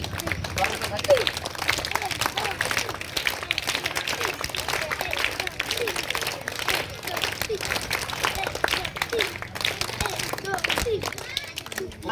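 An audience at a school martial arts and self-defence drill session claps to welcome a guest, rapid dense clapping with crowd babble, steady and moderately loud for the whole stretch.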